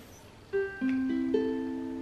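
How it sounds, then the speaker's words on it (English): A tuned ukulele sounds four open strings one after another, each note ringing and sustaining over the last, clear and close with no voice. "the first thing you're gonna need is your uke, and it should sound like this"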